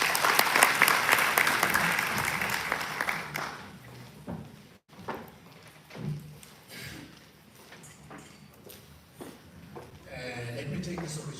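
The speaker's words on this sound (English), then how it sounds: "Let's give him a round of applause." An indoor audience claps at a workplace safety and health commemoration. The applause starts loud and fades over about four seconds, and a voice speaks afterward.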